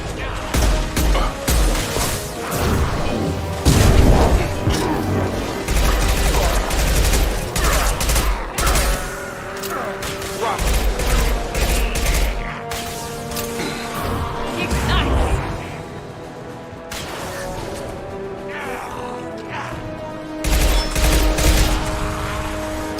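Sustained gunfire in Mass Effect 2 rattles close and loud across a firefight, with bursts, bangs and crashes layered over game music as voices talk throughout.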